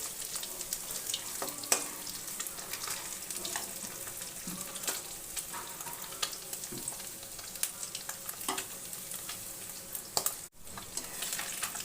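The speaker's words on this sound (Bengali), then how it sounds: "মাছ ভাজা হয়ে গেছে, এবার উঠিয়ে নেব।" A batch of mourala fish finishing in oil makes a soft, continuous sizzle and crackle, with scattered small clicks and pops and a brief dip near the end.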